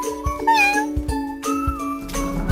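A small cat meows repeatedly in high, rising cries over a light musical backing, several short calls in quick succession.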